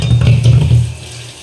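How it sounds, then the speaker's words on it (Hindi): Water pours from a vessel into a pan of fried badi, a loud, close gurgling splash lasting about a second before it tapers off. "अब इसमें हम पानी डाल देते हैं।"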